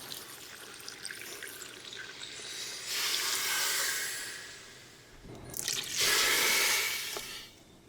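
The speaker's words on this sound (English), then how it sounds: "Now add water." Water is poured into a hot pan for shrimp étouffée in two separate steady streams, each rushing and splashing for a couple of seconds. The pours are heard close up with no talking.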